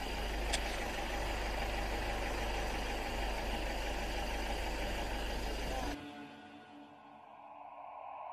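A black bus idling on a route toward Gunung Halimun Salak, a steady low rumbling drone for about six seconds that then drops abruptly to a quieter, muffled hum.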